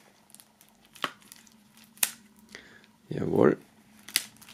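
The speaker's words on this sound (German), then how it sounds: "Die müssen wir auch noch aus der Folie befreien. So, einmal hier aufschneiden." Scissors cut through the plastic foil wrapping of an album box set, with a few sharp close snips and one longer crinkly cut, and someone briefly speaks between them.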